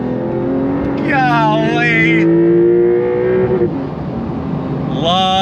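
A 2025 Porsche 911 Carrera S engine revs hard through rising gears, loud and close from inside the car, with a brief exclamation from a voice.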